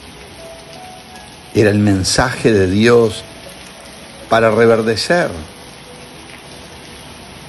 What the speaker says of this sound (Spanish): Hoy en la tarde se largó a llover aquí en el campo y llovía abundantemente.